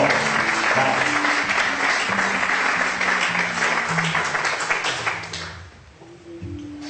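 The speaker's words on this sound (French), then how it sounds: "Applaudissons" Loud, sustained applause from a church congregation during a sermon fills most of the clip, then fades out near the end as music continues underneath.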